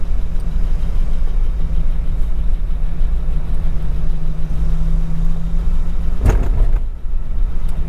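A 1946 Chrysler New Yorker's inline-eight engine drones steadily as it climbs a grade in high gear, a constant low hum inside the car with a brief knock near the end.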